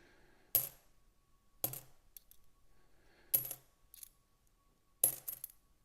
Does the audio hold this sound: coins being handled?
yes